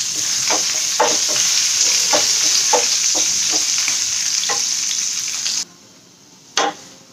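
Curry leaves, green chillies and dried red chillies fry in hot oil for a tempering, giving a loud steady sizzle punctuated by regular scraping stirs, then the sizzle drops away, leaving a single final stir.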